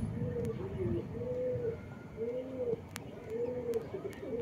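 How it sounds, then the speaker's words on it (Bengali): A Chinese hen pigeon coos close by in a repeated series of soft, rolling phrases, with faint handling noise around them. "আমার হাতে এখন যেইটা কবুতরটা দেখতেছেন এটা হচ্ছে চীনা মাদি কবুতর"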